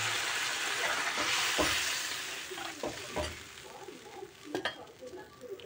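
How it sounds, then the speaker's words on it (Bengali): Water poured into a pan of frying mushroom and potato curry, a hissing burst of sizzle that fades into quieter bubbling with a few clinks of a spoon against the pot, heard close by. "এবার দিয়ে দিচ্ছি জল।"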